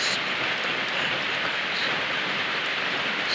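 Rain falling, a dense continuous hiss of drops on surfaces, loud and steady from start to end, no talk or other sounds standing out.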